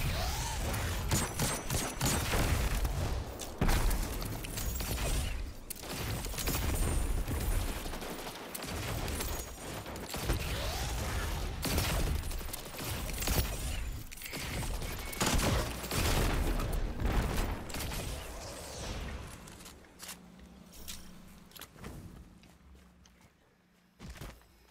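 Sustained gunfire from a Grandmaster Nightfall strike in the game Destiny, The Devil's Lair: dense, rapid volleys of shots and explosive bursts that continue almost without a break, loud and close, before thinning out near the end.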